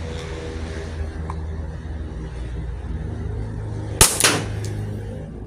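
An Umarex Smith & Wesson M&P9 M2.0 BB pistol fires a single test shot: one sharp, loud snap with a brief rattle after it, over a steady low background hum.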